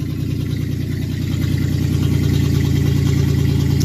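A loud 1994 Chevy Corsica engine runs on its own with a rough, pulsing idle after a misfire at startup, steady and close, rising slightly in intensity partway through.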